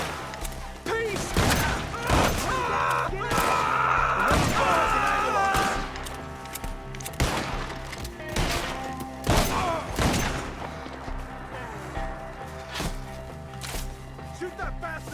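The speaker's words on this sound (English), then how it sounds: "Shoot that bastard off his branch!" In Red Dead Redemption 2, gunfire is aimed at a man up in a tree: a loud, irregular series of sharp gunshots cracking one after another, mixed with people shouting.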